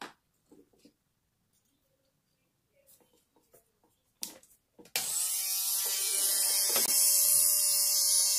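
An electric nail drill bit shaping the curvature of a stiletto nail into an almond shape starts after a few faint taps, then runs as a steady high whine, close and alone.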